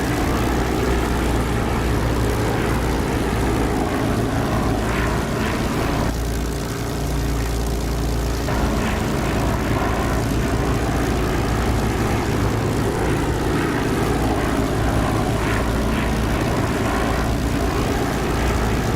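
A loud, unbroken propeller aircraft engine drone in the DCS flight simulator, a deep steady hum with propeller buzz that dips briefly and then holds level.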